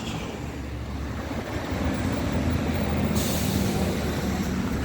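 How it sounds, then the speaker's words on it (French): A tram passes on an elevated tramway line in Florence, a steady rolling rumble of wheels on rails that grows slightly louder midway, with faint squeal and city noise around it. "Ça, c'est une ligne de tramway volante, si on peut le dire ainsi."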